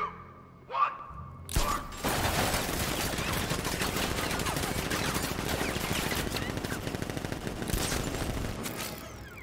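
Sentry gun turrets in the video game The Batman unleash a sustained, loud barrage of rapid automatic fire, continuous for several seconds after a couple of short opening bursts.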